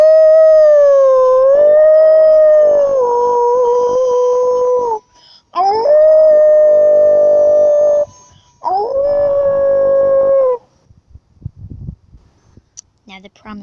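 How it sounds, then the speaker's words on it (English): A wolf howls three long, loud, wavering calls close by, each rising and falling in pitch with short pauses between them, followed by a few faint scattered sounds. "You must howl."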